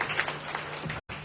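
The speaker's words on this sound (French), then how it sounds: "On peut l'applaudir pour ces jeunes." Congregation clapping during a church service in Madagascar, a short dense burst of applause that cuts out briefly near the end and then resumes.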